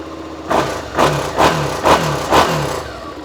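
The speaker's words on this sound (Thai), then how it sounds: "ฟังเสียงของ แอลทวิน" A 2018 Suzuki SV650 L-twin motorcycle engine revs in loud, close blips, four or five even pulses rising and falling over a steady idle, no talking.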